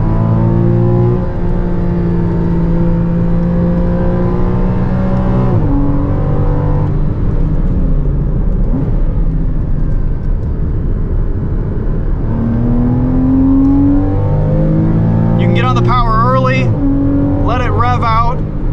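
A 2014 Porsche Cayman with PDK gearbox on a racetrack, its engine droning loudly and steadily with pitch sweeps between shifts, heard from inside with a voice talking over it.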